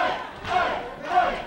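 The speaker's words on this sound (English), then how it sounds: "crowd is behind Caprice Coleman" A wrestling crowd at a hardcore match cheers in two loud swells, roaring up, easing off and surging again within a second and a half.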